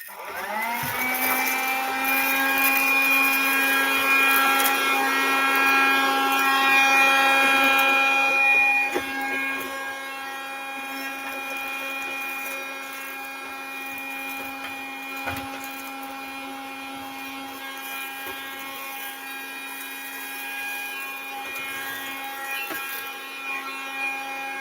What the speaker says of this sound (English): I'm going to give it a pass over with the vac.